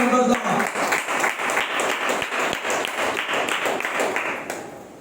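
A church congregation at a Sunday worship service clapping together in a fast, steady rhythm, loud and close, tapering slightly toward the end.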